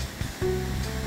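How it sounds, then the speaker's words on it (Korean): A pond fountain and waterfall splash with a continuous broad rush of falling water, fairly close and steady throughout, with no voices over it. "분수도 해놨고 저쪽엔 폭포도 있어요."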